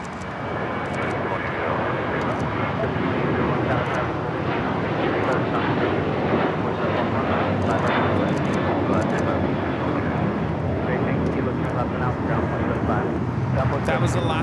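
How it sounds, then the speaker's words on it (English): Alaska Airlines Boeing 737-800 jet taking off at LAX, a steady, loud broadband engine roar that holds for the whole stretch, with people talking over it. "That was Alaska Airlines 1374 taking off to Laredo on the 737-800"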